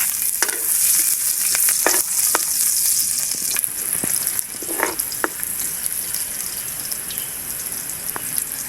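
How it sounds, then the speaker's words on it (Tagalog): Garlic sautés in cooking oil with a loud, close, steady sizzle and crackle, and scattered clicks and scrapes from stirring, tapering slightly in the second half. "Mantika, magigisa na po tayo. Bawang."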